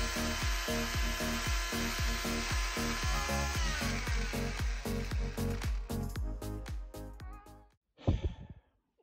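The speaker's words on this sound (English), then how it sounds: "So I'm going to saw it off." A hand saw cuts through a seized rear axle nut on a Porsche 924, with rapid rhythmic metallic strokes that are loud and close, slowing and thinning out toward the end before a few scraping clatters.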